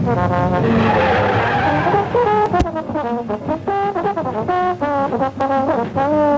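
Production racing cars, including Jaguars, squeal their tyres hard through the bends at a Longford revival circuit race, a loud continuous chorus of overlapping high-pitched screeches with engines, near and dominant throughout.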